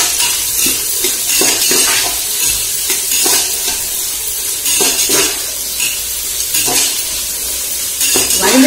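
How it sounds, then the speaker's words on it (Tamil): Onions sautéing in a pan for mushroom biryani, a loud close sizzle broken by repeated scraping stirs and light clinks of a utensil against the pan. "வெங்காயம் நல்லா வதக்கட்டும்"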